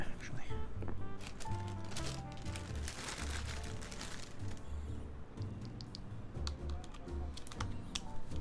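Rapid clacky keystrokes on a custom-built mechanical keyboard, a dense uneven patter of close key presses running throughout, with a voice talking now and then underneath.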